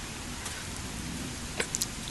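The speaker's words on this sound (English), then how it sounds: "Having rain finally." Steady rain falls outdoors over grass and a garden with a tomato plant, a dense constant hiss with a few brief brighter drips near the end.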